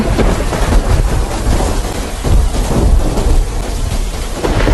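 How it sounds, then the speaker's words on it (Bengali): Heavy rain pours down steadily with deep rolls of thunder rumbling underneath, loud and close the whole time. "এত বৃষ্টি নেমেছে"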